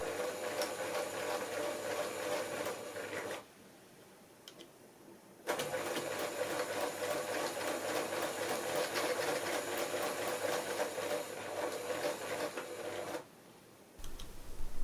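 A sewing machine runs in steady stitching bursts, stopping briefly twice before resuming, loud and close with no voices.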